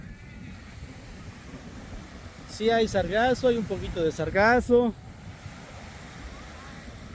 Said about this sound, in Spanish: El mar bonito.